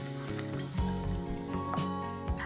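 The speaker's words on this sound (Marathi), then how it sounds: "ह्याच बटरमध्ये आपण घेतो इकडे बेबीकॉर्न घेतलेत, ते आपण सॉते करून घेऊया" Baby corn sautés in butter in a pan, a steady close sizzle with a few short stirring scrapes and faint clinks, no voices.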